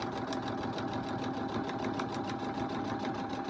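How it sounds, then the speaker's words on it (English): A sewing machine stitches a line across quilt fabric for a cricket butterfly charm block, its rapid even needle chatter running steadily and fairly quiet the whole time with no talking. "So now I'm going to sew that line between 6 and 7."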